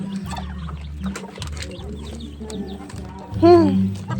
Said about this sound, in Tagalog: Yan ang sisiw mo.